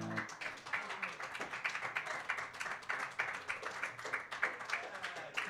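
An open mic audience claps steadily after a performance, a moderate, continuous patter of many hands at fair distance, with talk mixed in.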